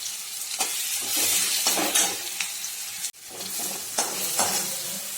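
Ground green chili paste sizzles and spatters loudly in hot oil tempering for a gavar (cluster bean) dish, frying steadily while a spoon stirs with a brief break midway.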